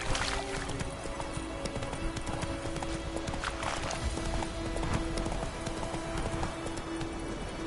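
Steady clip-clop of Roach's hooves, Geralt's horse in The Witcher 3, trotting continuously up close with a faint snort or whinny, under a soft ambient game soundtrack.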